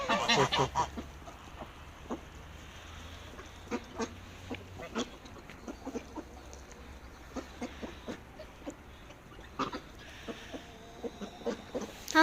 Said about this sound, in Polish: kaczki i gęsi tam mieszkają